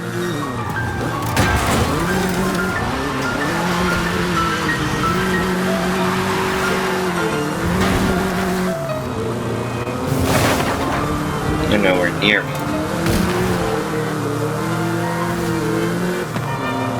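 A Volkswagen Beetle races in Forza Horizon, its engine droning steadily with occasional tire squeals and skids, while someone talks over the game sound.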